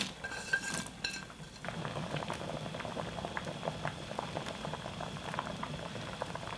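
Kimchi sujebi soup with potato and freshly added onion boiling in a pot, a few utensil clinks first, then a steady bubbling simmer with rapid popping close by, with no talk.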